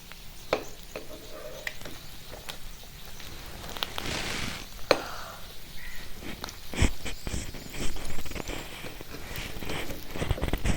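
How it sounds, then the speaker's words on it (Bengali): An egg and flour snack fries slowly in a little oil, with a soft, continuous sizzle broken by sharp clicks and scrapes of a spatula against the pan throughout. "তো এই দেখুন আমি ধীরে সুস্থে একবারে ভাজতেছি, যাতে একবার ভিতরে সব জায়গায় সিদ্ধ হয়ে যায়"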